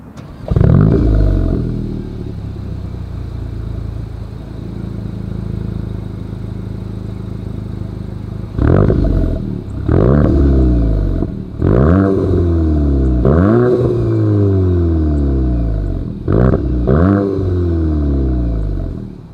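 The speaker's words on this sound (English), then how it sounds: "As always, here is that exhaust clip." A 2023 Volkswagen Golf GTI revs repeatedly through the exhaust, several sharp rising-and-falling blips after a steady idle, loud and close.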